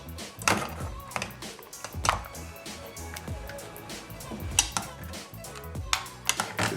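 Dishes of fried yam and goat neck chops in Celario sauce being served onto a plate, with a run of close clinks and scrapes of cutlery and crockery at an uneven rhythm, no talking.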